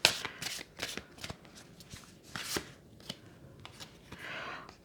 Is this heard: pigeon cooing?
no